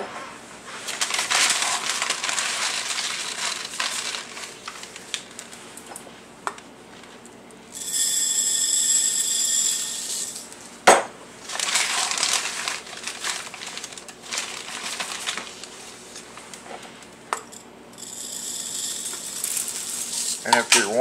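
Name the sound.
FoodSaver G200 vacuum sealer vacuum canning rice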